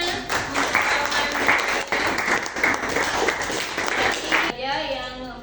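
Students applaud in a classroom, a dense steady patter of clapping lasting several seconds before cutting off into a short spoken voice.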